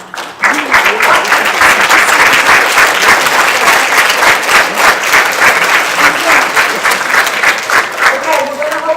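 Crowd applause for volunteers standing at an annual birthday bash, a loud, sustained roar of many hands clapping continuously for the full stretch.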